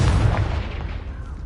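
A Confringo blasting spell exploding in Hogwarts Legacy: a single loud, broad boom that bursts out at once and then rumbles and fades over about a second, close and with nothing else over it.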